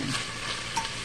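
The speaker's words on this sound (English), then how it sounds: "And move it around as it cooks" Bacon sizzles steadily in a pan while it is stirred and moved around, a close, even frying hiss with small scraping touches and a brief louder stir near the end.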